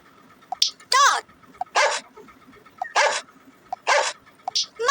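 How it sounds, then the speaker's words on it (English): A dog barks repeatedly in short bursts, several distinct barks spaced across a few seconds with brief higher yips between them, fairly close and clear against a quiet background. "Dog."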